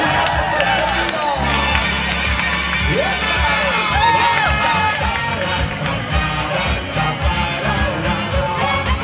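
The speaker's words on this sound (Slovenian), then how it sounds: "Evo še en velik aplavz za vaše kolege" A crowd cheers, whoops and shouts loudly in applause for colleagues, children's voices among them, a dense close wall of yelling that carries on throughout with some talk mixed in.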